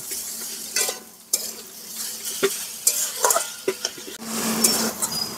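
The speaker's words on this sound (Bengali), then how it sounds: "চিনিটা গলা অবধি এই নারকেলটাকে হালকা ভেজে নেব।" Grated coconut frying with melting sugar in a pan, a steady close sizzle broken by a few sharp scrapes and clinks of a stirring spoon against the metal.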